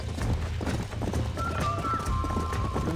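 Horse hooves clip-clopping at a gallop in the Red Dead Redemption video game, a steady rhythmic beat over low rumbling game ambience, with a brief whinny-like tone in the middle.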